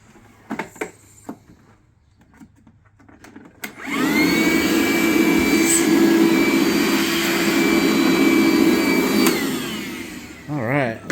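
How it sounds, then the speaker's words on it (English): A vacuum cleaner sucks dust out of freshly drilled holes during a TV wall mount installation. A few quiet knocks come first, then the motor starts with a loud, steady, close whine that holds for about seven seconds before cutting off. "He's going to vacuum it out real quick."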